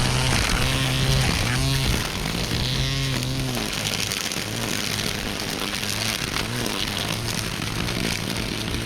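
A Worx WG163 20V cordless string trimmer cuts grass along a wall, its motor whining steadily and loudly over nine seconds, with the pitch wavering as the line bites into the grass.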